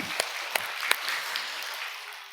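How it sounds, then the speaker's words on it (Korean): Church congregation at a Sunday worship service clapping in praise: a few sharp individual claps at the start, then a soft, thin patter of applause that fades under a quiet room tone. "우리 아버지 하나님께 큰 박수로 영광을"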